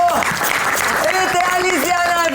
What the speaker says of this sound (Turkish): Bir alkışlayalım şöyle bir enerjimiz yerine gelsin